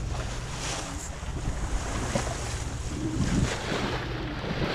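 Steady wind rushes over the microphone while waves wash and slosh against a moving sailboat hull at sea in the Balearic Islands, a continuous outdoor sailing ambience with no voices.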